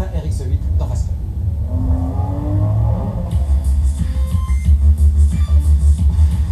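Mazda RX8 rotary engine on a timed lap, a steady rumbling drone that swells and revs under someone talking over it.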